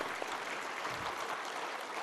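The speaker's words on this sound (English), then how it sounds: "Can we clap for all the mothers here?" An audience claps together at a school annual day celebration, a dense, steady patter of many hands filling the room without a break.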